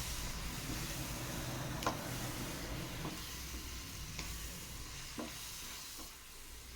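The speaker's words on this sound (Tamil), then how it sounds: "ஸ்டவ்வை லோ ஃப்ளேமில் வச்சு கிண்டி விட்டுக்கோங்க" A spoon stirs coconut milk halwa in a pan over a low flame, with a soft, steady sizzle broken by a few faint scrapes and taps against the pan.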